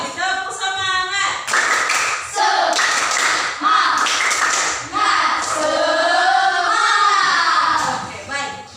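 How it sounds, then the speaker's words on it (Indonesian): Classroom group, likely children, performs a rhythmic cheer clap in quick patterned claps mixed with chanted shouting voices, loud and close for several seconds. "Lagi tepuk semangat."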